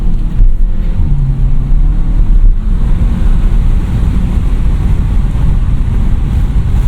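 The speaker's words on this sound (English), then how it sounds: "You probably heard a little bit of the exhaust as well, which is nice." Low, steady engine and exhaust rumble from a 2020 Cupra 290 DSG picking up speed, heavily mixed with wind buffeting on the microphone.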